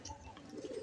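Pigeons kept in a loft coo softly in a brief, low, murmuring call, faint and close.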